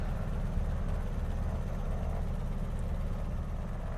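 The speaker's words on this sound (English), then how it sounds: "mixture's off on both engines. Throttle levers are off. Engines are winding down." Twin aircraft engines in a flight simulator drone with a low, steady rumble after shutdown, a constant mechanical hum with no talking over it.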